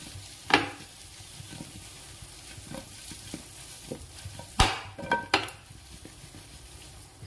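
Okra masala frying in a pan, with a soft continuous sizzle and a few sharp clinks and scrapes of stirring against the pan, moderately close and without speech.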